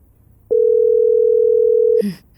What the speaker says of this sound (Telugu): అమ్మకు ఫోన్ చేద్దాం.